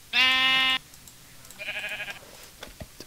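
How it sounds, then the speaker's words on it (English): Sheep in Minecraft bleat twice, a loud buzzy game bleat followed by a shorter, quieter wavering one, then a few faint clicks and taps with no talking. "Kill some sheep."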